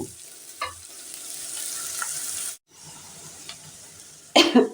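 Onion and garlic frying in oil in an open, uncovered pan, a steady bright sizzle close by, with a few soft coughs or stirring clinks, a brief gap of silence midway, and a louder burst of spattering at the end.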